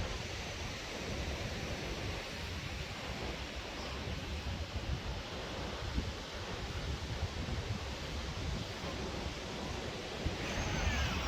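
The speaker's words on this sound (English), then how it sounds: "It is very windy today." Strong wind on the seaside at Redcar beach in the UK, a constant broad roar of wind buffeting the microphone, with surf blended in, loud and unbroken throughout.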